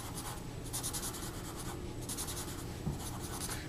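A graphite pencil scratches steadily across paper in small circular strokes while shading a tree drawing, a close, continuous dry rasp with gentle rhythmic pulses of pressure.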